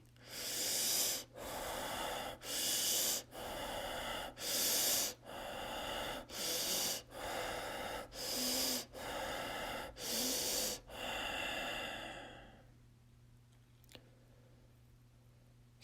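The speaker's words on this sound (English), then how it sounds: "full speed, as fast and deep as you can, with no pause in between your breaths" Fast, deep breathing with no pauses in a meditation exercise, about ten forceful, rhythmic breath bursts in quick succession, loud and close, then stopping into near silence.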